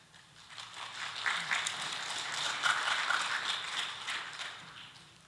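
Soft, distant applause rises and fades in a large conference hall at the opening ceremony of an international transport systems conference in Korea, welcoming an official to the stage.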